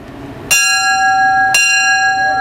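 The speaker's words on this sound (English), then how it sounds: "why don't you ring it twice?" Two bright, clear strikes of a ship's bell aboard the SS Selma, about a second apart, each leaving a long ringing tone that carries on after it.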